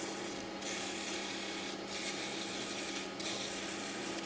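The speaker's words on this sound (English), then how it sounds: "Because Terry is sanding in reverse" Continuous rough rubbing of a folded sandpaper disc against wood spinning in reverse, a steady abrasive hiss with faint periodic dips, close and fairly loud.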